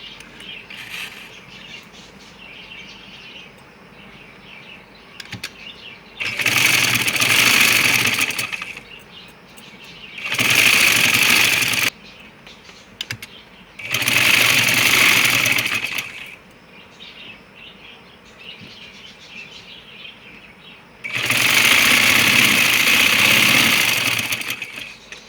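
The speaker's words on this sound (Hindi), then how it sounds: "उससे भी पहले हमें यहाँ पे एक सिलाई लगानी है ताकि जब हम काटें तो लाइनिंग और शर्ट अलहदा ना हो जाए" Sewing machine stitching the lining to a shirt, running in four loud sustained bursts separated by quieter pauses with a low background hum.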